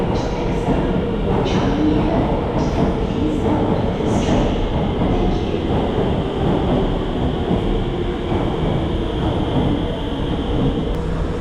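A Singapore train rumbles steadily at a station platform, with a constant low roar and faint chimes or squeals over it.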